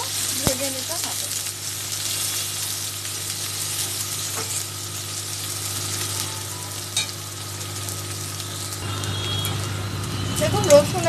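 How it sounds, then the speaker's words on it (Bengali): Crushed garlic and onion fry in a pan with a continuous soft sizzle and occasional stirring scrapes, while a person talks over the cooking. "দিয়ে রসুন আর পেঁয়াজটাকে ভালো মতো ভেজে নিতে হবে"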